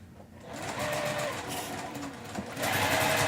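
A sewing machine stitches quilt blocks with a steady, fast mechanical whir that runs continuously and grows louder near the end, the bottom feeder moving fabric without a walking foot.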